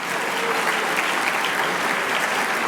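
Sustained applause from a large audience at a community awards luncheon held at the Hilton during the World Zoroastrian Congress, a dense, steady wash of clapping throughout, even and fairly loud with no talk.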